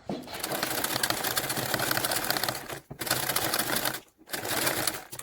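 A sewing machine stitches two fabric pieces together along an edge with a 3 mm seam allowance, a loud, close, rapid whirring rattle in three runs separated by brief pauses.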